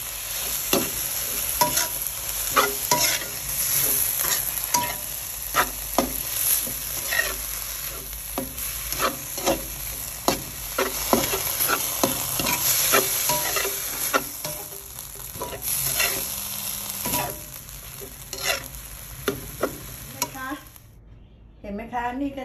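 Holy basil stir-fried over high heat with oyster sauce, dark soy sauce and fish sauce: a continuous close sizzle broken by rapid, repeated spatula strokes against the pan, a voice faintly in the background, cutting off abruptly near the end.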